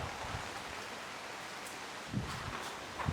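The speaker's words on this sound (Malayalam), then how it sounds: "കാറ്റ് കേട്ടാ, ജാതി കാറ്റാ വരുന്നത് കേട്ടാ, കാറ്റും മഴയും" Wind and rain outside during the rainy season, heard as a soft, steady hiss of rain with occasional faint gusts and rustles, fairly quiet and continuous.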